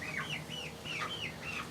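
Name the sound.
chickens and chicks clucking in a coop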